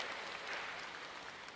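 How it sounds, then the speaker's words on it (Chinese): An audience at a Deyunshe crosstalk comedy show in Shanghai applauds, a faint, brief, even patter of many hands clapping with no distinct voices. "谢谢各位的掌声。"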